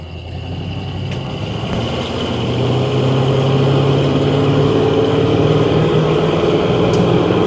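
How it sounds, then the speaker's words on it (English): A restored 1978 Ford F100 Ranger XLT Lariat pickup truck pulls under throttle on a test drive, its engine drone rising steadily with gear changes under road and wind noise inside the cab. "getting in the throttle, it pulls well, shifts positive through the gears, down through the gears as well"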